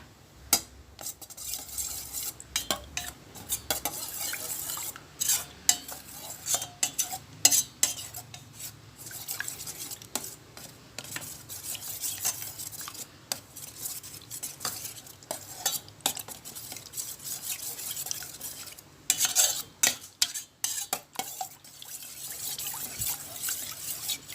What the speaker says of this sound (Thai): คนให้แป้งละลายเข้ากับน้ำกะทินะคะ